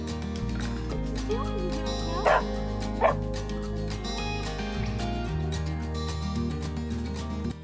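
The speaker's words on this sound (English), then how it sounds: "We have all three of the dogs and Mr. Sue." Three dogs on a homestead with a chicken run keep up near, continuous yipping and whimpering, with two louder sharp barks breaking through partway along.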